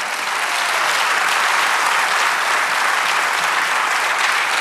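Church congregation clapping loudly and continuously during a sermon, a thick, sustained wash of applause that stays strong from start to finish.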